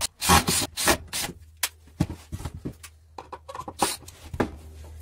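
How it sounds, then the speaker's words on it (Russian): A handsaw cuts a wooden board at a 45-degree angle in close, uneven rasping strokes, each push and pull a loud burst separated by short pauses. "Берем одну дощечку, отпилил под 45 градусов."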